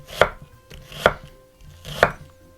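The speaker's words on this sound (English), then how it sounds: "we're going to take our onion, slice them, just slice them like so" A knife slices through onions on a board: three distinct, close chopping thuds at an even, unhurried pace, with no talking.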